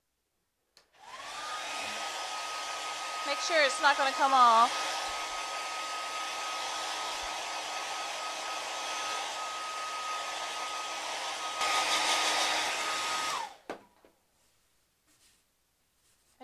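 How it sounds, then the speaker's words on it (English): A hair dryer switches on and blows with a steady, loud whirring hum for about twelve seconds, then shuts off; a person speaks briefly over it. "Let me find my blow dryer."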